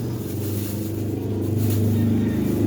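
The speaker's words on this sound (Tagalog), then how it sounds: "Maingay yung tricycle." A loud motorized tricycle drones steadily nearby, its low engine rumble rising slightly as it passes, with no talk over it.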